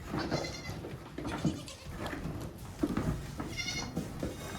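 Goat on a milk stand bleating repeatedly in loud, close, nasal cries, with shuffling and stand noise between calls.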